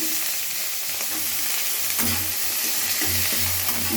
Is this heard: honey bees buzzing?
no